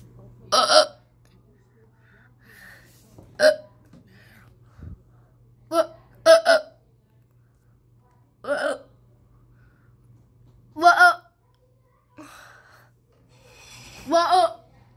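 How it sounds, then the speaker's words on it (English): A child hiccups about seven times, each a sharp, isolated burst spaced a couple of seconds apart against a quiet room with a faint low hum, close and fairly loud. "I hiccup."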